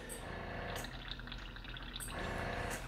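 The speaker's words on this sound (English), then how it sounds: "you hold it over the tip and you pull it. And what that does is it forces the air back through and it starts bubbling like a little cauldron" An airbrush back-flushed by covering its tip, forcing air back so paint bubbles and gurgles in the cup like a little cauldron; a steady, close, quiet bubbling with soft airy hiss, no talking.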